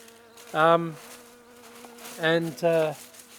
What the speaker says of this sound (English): there's a bee in front of the lens